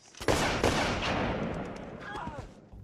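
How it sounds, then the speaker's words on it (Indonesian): Gunfire in the zombie film 28 Days Later bursts out as two sharp, loud shots close together, each trailing into a long reverberant rumble as a voice speaks faintly. "Hingga akhirnya si Jonas menembak Parel"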